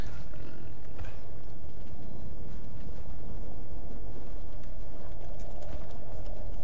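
Loud, rapid hoofbeats pound continuously over a heavy rumbling roar, a horse galloping hard through a busy scene in the video game The Elder Scrolls Online.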